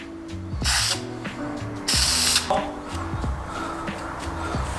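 Aerosol can of white spray paint hissing in uneven bursts, two loud sprays with sputtering between, over a steady low mechanical drone.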